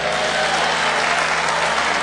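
A funeral congregation applauds at length, dense sustained clapping from many hands filling the room at steady loudness, with no speech over it.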